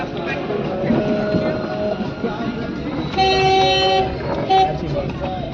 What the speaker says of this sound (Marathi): हे ट्रेन चाललेली आहे गाईज, बढिया.